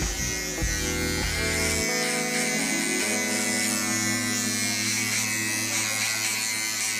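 An electric clipper buzzes steadily and loudly while trimming a man's hair in a salon, a continuous hum running the whole way through with no talking.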